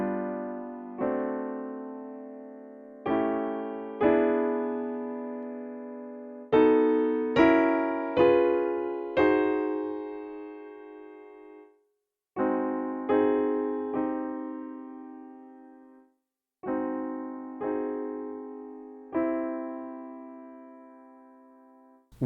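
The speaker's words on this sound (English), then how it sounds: "What you just heard is a bunch of dominant 7 chords using the circle of fifths, going backwards rather than going in the normal direction we usually hear." A series of dominant seventh chords moves backwards around the circle of fifths, each chord struck cleanly and left to decay, in groups separated by short pauses, with no talking.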